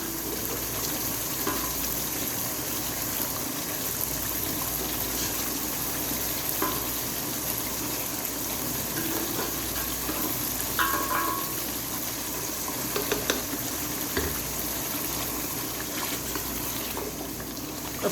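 Mutton trotters with chickpeas fry and get stirred in a pan, a constant loud sizzle with occasional scrapes and clinks of a spoon against metal.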